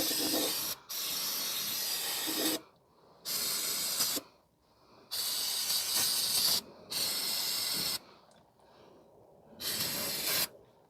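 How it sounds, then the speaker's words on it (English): Brake cleaner sprays in five long, hissing bursts with brief pauses between them, washing down the engine area of a 2017 Nissan Pathfinder 3.5 during an oil change; close and steady, no talking. "So now I'm just going to wash the area down with some brake cleaner."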